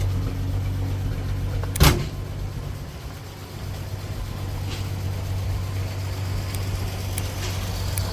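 A 1937 Plymouth truck's flathead six-cylinder engine idles in a steady, low, even hum, with one brief louder click or knock near the start and a quiet, smooth drone throughout.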